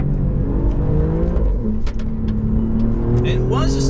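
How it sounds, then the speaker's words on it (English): A loud Akrapovic exhaust on an Alfa Romeo Giulia GTAm twin-turbo V6 roars close by with a steady droning engine note and a few sharp pops, under occasional indistinct speech. "This Akrapovic exhaust truly announces the noise of this twin turbo"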